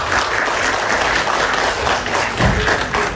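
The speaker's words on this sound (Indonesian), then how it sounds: "Boleh tepuk tangan." Employees at a hospital's 42nd anniversary and Indonesian Independence Day celebration applaud together in a steady, close burst of clapping lasting a few seconds, punctuated by a couple of low thuds.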